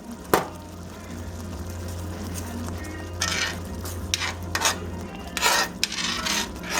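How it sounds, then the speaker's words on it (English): A spoon scrapes the bottom of a pan of beef tips and onion gravy in a steady rasping rhythm, with louder grating strokes near the end over a low simmering hiss. "You can scrape it one way and see the bottom of the pan."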